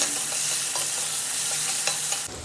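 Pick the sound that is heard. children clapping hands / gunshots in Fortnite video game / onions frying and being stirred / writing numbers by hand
onions frying and being stirred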